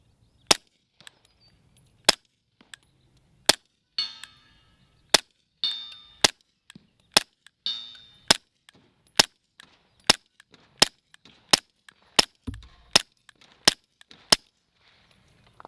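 Suppressed Canik TP9 Elite 9mm pistol firing Fiocchi 158-grain rounds, about fifteen sharp, evenly spaced shots roughly every second, each a crisp loud crack with a short tail, with no talking.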